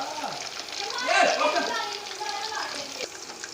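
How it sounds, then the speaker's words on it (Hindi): Salted lemon chicken pieces fry in hot oil with a moderate crackling sizzle that swells and fades, under a woman's speech. "तो अब दोबारा उसको नमक लगा के दोबारा एक बार से फ्राई कर लेंगे"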